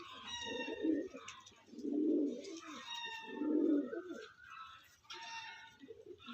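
Several pigeons coo close by in three or four rounded, throaty phrases with a softer warble and faint chirps between them.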